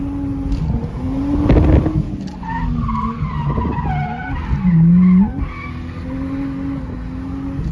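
A car drifts at Ebisu Circuit in Japan, its engine revving loud and close, with a sustained tire squeal and a sharp rising screech in the middle of the slide.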